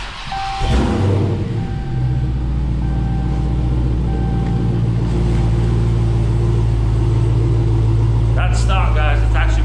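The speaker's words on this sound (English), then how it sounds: "get inside the car and start this car and give it a little cold start and see how she sounds" Cold start of a stock 2023 Dodge Challenger SRT Hellcat Jailbreak: a starter catch, then a loud, deep, throaty burst of revs that settles into a heavy, rumbling idle close by, with a brief chime near the end.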